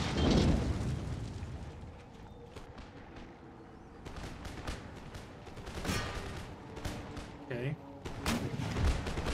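Howitzer artillery fires in an Empire: Total War battle, sharp booming reports and scattered gunfire cracks recurring irregularly over a dense, rumbling battlefield din, with a voice talking over it.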